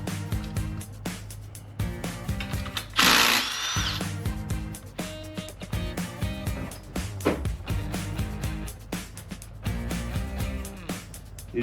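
A power tool whirs and rattles in repeated short bursts while removing the crank bolt on a 2010 Subaru Forester, close and fairly loud, with one harsher, noisier burst early on.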